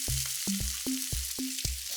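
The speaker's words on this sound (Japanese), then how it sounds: "野菜を裏返して、 少し火を弱めて焼きます。" Vegetables sizzling in a frying pan over lowered heat, a constant crackling hiss with a few soft rhythmic taps, close and steady for about two seconds, no talk.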